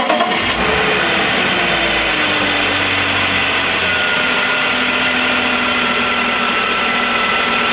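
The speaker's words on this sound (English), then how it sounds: "So my friend going to start the engine now" A BMW engine turns over and catches, then settles into a steady, loud idle with a constant mechanical rumble throughout.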